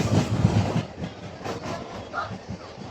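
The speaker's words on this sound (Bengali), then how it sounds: "ওদিক দিয়ে ট্রেন ঢুকছে, দেখতে পাবে কিনা জানি না, ওই যে ট্রেন ঢুকছে" An empty passenger train rolls into a station with a steady rumble and faint wheel clatter, loudest at the start and easing off as it continues nearby.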